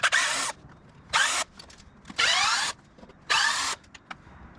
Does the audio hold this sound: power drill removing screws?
yes